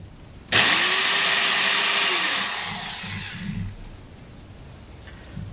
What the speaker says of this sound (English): I'm totally drilling holes in my shiny new thing.